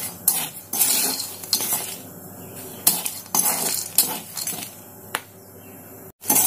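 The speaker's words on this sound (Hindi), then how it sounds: "ये देखिए, चने फूटना स्टार्ट हो चुके हैं। आपको फ्लेम को हाई रखना है, हाई फ्लेम पर ही इसको भूनना है।" Black chickpeas roasting in salt in a pan on a high flame make bursts of rattling, scraping stirs and sharp pops, loud and close, separated by short quieter gaps.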